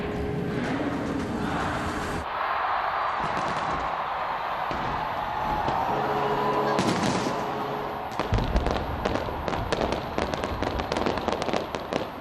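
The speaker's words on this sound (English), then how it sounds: "There were fireworks that were lighting up the sky over Auckland." New Year 2020 fireworks over Auckland go off in dense, loud volleys of crackling bursts and rapid popping, rising to a rattling barrage of sharp cracks near the end.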